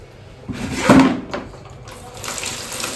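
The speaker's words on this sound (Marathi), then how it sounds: "जरा पाणी भरायला लावते मी बालदीमध्ये" Running tap water splashes into a bucket, rising to a louder gush near the start, then settling into a steady, softer flow.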